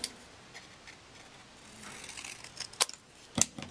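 Scissors cutting a strip of paper for a scrapbook page, two quick, crisp snips close by after a quiet stretch of soft handling noise.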